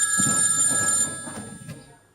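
A telephone rings with a bright electronic trill while voices talk over it, the ringing fading out after about a second.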